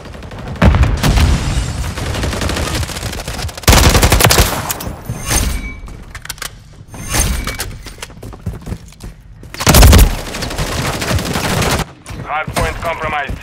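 Bursts of rapid gunfire from Call of Duty Modern Warfare 3 in a Hardpoint match on the Terminal map, loud and close, with several sustained volleys separated by brief lulls, over game chatter.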